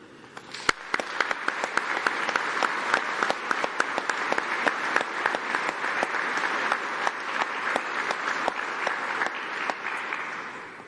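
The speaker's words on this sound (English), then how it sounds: "please let's give a round of applause and massive cheer to say thank you to all your supporters" Sustained applause from a large audience at a university winter graduation ceremony, dense steady clapping for about eleven seconds with sharp individual claps standing out and no speech over it.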